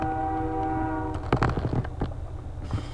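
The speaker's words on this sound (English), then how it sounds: "I apologize for the train in the background." Train passing in the background, with a sustained horn tone followed by a burst of rattling, clattering rail noise, heard from a moderate distance with no talk.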